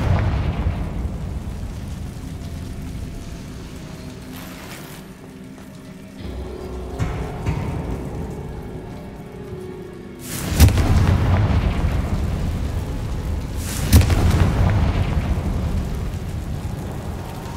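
Confringo spell blasts in the wizarding game Hogwarts Legacy, two sharp loud explosions some seconds apart, each followed by a rumbling decay, over a low steady background din.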